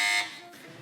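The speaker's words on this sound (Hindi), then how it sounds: "जी, बजर बजाई है कराची मेट्रोपॉलिटन की टीम ने।" A quiz-show buzzer pressed by a team in a kids' Ramadan quiz program sounds as one loud, steady electronic tone, held for a moment before cutting away into a quieter room.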